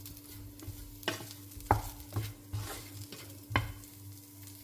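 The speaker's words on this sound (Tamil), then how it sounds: "ஃப்ரை பண்ணி எடுத்துட்டோம்னா ப்ரான் ஃப்ரை ரெடி" Prawns frying in a pan, a low continuous sizzle broken by several distinct stirring scrapes and taps at an uneven rhythm, close and quiet, with no voices.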